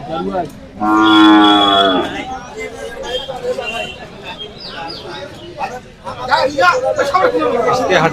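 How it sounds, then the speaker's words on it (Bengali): Cattle at a crowded livestock market give a loud, drawn-out moo near the start, with more animal calls and steady crowd chatter and voices filling the rest. "আজকে হাটে গরু অনেক"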